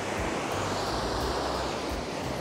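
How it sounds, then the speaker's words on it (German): Rough sea surf crashes steadily onto a rocky coastline at Cap de ses Salines on Mallorca, a dense and continuous roar mixed with some wind, with no talking. "wir haben hier eine richtig, richtig raue Küste, ja, diese Brandung"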